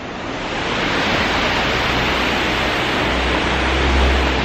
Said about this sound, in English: This is the Golden Waterfall.